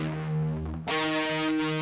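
Distorted electric guitar plays a pedal-tone riff: loud, sustained driven notes that shift to a brighter, fuller chord partway through, with no talking.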